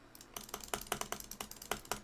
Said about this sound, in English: Sorry if you hear an absurd amount of clicking.